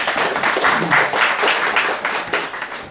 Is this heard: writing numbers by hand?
no